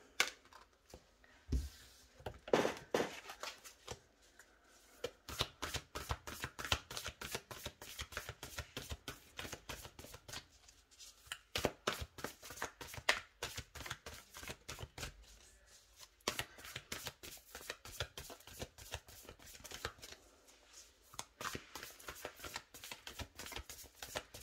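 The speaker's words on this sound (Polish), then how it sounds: "Tasujemy karty" Tarot cards being shuffled by hand, a long run of rapid crisp riffling flutters and soft slaps repeating steadily, close and fairly quiet with no talk.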